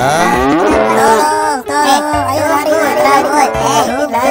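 Angry cow in the GTA video game mooing loudly in long, drawn-out bellows, one after another, close and dominant, while voices speak briefly beneath.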